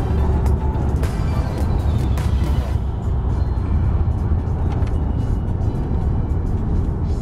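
Steady interior drone of an Audi on the road, a broadband low rumble with constant engine and tyre noise holding at an even level throughout, no voices.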